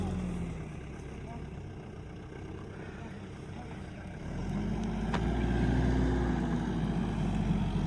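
A Pajero SUV strains to tow a tractor stuck in mud, its tank fully loaded with water. A low engine rumble swells noticeably louder partway through and holds steady, with people talking over it.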